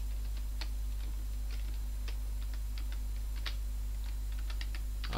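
Computer keyboard keys pressed while playing a Pac-Man clone, Crocky 2, on a Thomson MO5: scattered crisp clicks at an irregular pace, close and fairly quiet over a steady low hum, with no voice.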